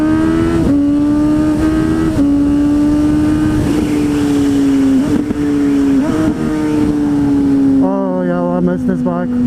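A 600cc motorcycle being ridden on a path, its engine holding a loud, steady high-pitched drone close by, rising and dipping briefly with gear changes and throttle blips, easing off near the end.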